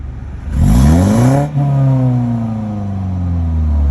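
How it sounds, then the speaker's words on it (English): A 2018 BMW 330i with a catless downpipe, in comfort mode, is revved close by: the engine climbs in one sharp rev, drops back abruptly, then settles into a rumbling idle that slowly falls in pitch. "I have my girlfriend recording revving the car for me"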